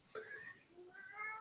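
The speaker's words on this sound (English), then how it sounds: "Cat's kicking off." A house cat lets out a quiet, drawn-out meow, then a second wavering cry shortly after, both faint and fairly close indoors.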